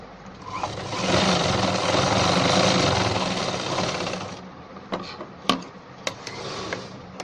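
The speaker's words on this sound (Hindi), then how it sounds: "ये देखिएगा दोस्तों, हमने सिलाई लगा दी है।" A sewing machine stitches a ladies' pant in a steady, close whirring run for about four seconds, then stops, followed by a few sharp clicks and light handling knocks of the fabric.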